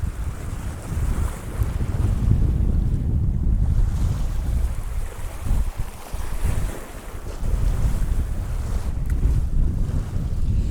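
A stiff crosswind buffets the microphone on a shallow rocky shoreline during bass lure fishing with a metal lure, a loud continuous roar that gusts and dips, with surf washing underneath.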